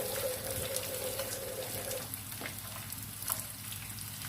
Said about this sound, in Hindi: फिश हमारी फ्राई हो चुकी है।